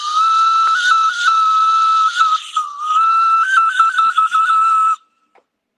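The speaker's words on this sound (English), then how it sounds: "Yeah, this is a whistle here." An ancient whistle sounds shrill, breathy and loud for about five seconds, wavering slightly in pitch, then stops abruptly into silence.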